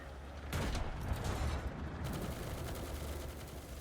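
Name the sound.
tank machine guns firing in a video game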